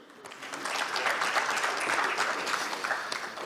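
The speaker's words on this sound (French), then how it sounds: "On l'applaudit." Conference attendees at an insurance finance panel applaud an introduced participant, a dense, fairly soft burst of clapping from a seated crowd that swells and continues without a break.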